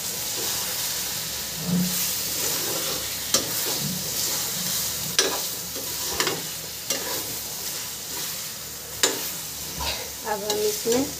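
Eggs going into masala that is frying in a pan for an egg curry, with a steady loud sizzle and hiss and occasional spoon scrapes and stirring clatter, close up and with no voices.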